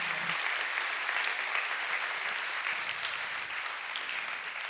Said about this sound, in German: Applaus für Emily.